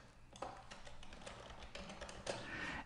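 Typing on a computer keyboard while entering SQL Server code: quiet, irregular key taps clustered over a few seconds at close range, with no voices.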